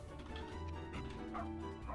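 Dog in a video game yipping and barking in short quiet repeated bursts over a low steady game background hum.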